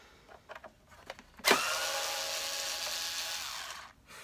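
A power screwdriver or drill whirs loudly and steadily for a few seconds while removing screws from a Hoover Turbo Power UB088 vacuum during disassembly, after a few light clicks and taps.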